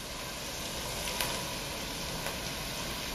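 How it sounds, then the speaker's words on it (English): Onions, carrots and celery soffritto sizzling in oil in a pan, a soft, even hiss of frying with a few faint crackles and no voices. "now we are ready to caramelize our soffritto. So onions first, then we have the carrots"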